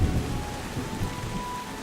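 Steady heavy rain with rumbling thunder in the video game Drizzlepath: Genie, a dense close downpour with no voices.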